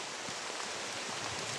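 Rain drips through a leaking roof in a mountain shelter, a steady dense patter that fills the space evenly, with no talking.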